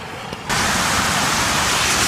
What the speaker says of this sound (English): I think it's just the rain